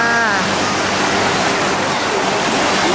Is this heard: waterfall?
yes